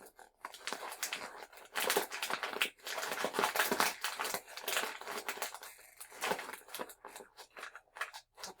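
Crinkly plastic crunching and crackling as a chip bag is sealed comes in bursts with short pauses, close and fairly quiet.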